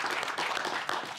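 Audience applause welcoming a guest to an evening talk event, a brief burst of dense clapping heard close and fairly loud.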